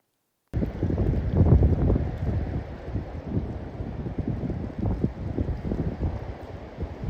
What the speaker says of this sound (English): It is a nice windy morning here on the homestead. It's blowing cold and snow right now.